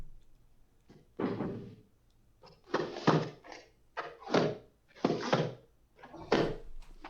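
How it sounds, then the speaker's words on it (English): A new Windows 11 Dell laptop gets shaken inside its original Dell packaging, giving about six bursts of dull thumping and rattling with short quiet gaps between them. Each burst is fairly close and loud, and nobody talks. "laptop banging around in here."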